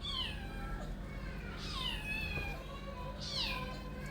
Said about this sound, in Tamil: எங்கள் வீட்டில் இருக்க பூனை அது.